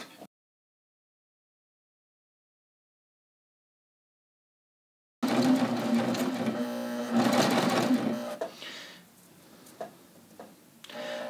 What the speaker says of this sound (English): and then I'm going to start stitching